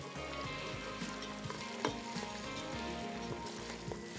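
Salt and cumin fry in hot oil in a karahi for an aloo gosht dish, giving a constant crackling sizzle with occasional sharper pops and light stirring scrapes, close and steady with no talking.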